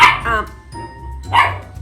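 A dog barks indoors, close and loud: a couple of quick barks, a pause, then another bark, with a faint tonal hum in the background.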